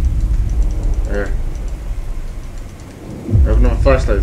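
Steady rain hiss with low rumbling thunder in a Slender Man's Shadow mansion video game level, a short voice-like burst partway through, then a louder rumble near the end.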